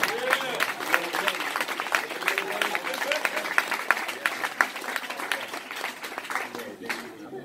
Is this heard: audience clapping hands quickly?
yes